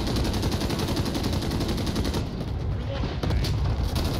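Dense, continuous gunfire and explosive bombardment from an artillery fire mission in Call of Duty Modern Warfare co-op, loud and sustained with overlapping bursts throughout.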